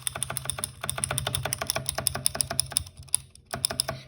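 Fast, steady typing on a mechanical keyboard with clicky blue switches, a dense run of crisp, bright clicks close up with a short pause near the end, no voices.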